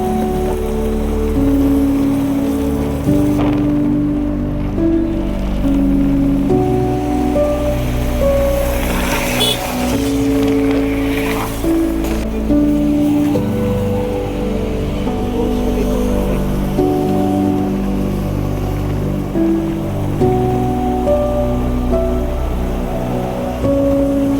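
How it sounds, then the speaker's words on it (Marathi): Heavy monsoon rain in Konkan pours in a loud, constant roar, with a low rumbling hum running underneath. "बघा काय पाऊस पडलाय भावा"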